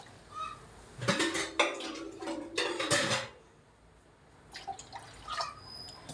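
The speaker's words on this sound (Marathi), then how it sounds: "सगळ्यात आधी पाणी घालायचं" Water is poured into a cooking pot for drumstick-leaf curry in a few splashing bursts with light metallic clatter, followed by quieter drips.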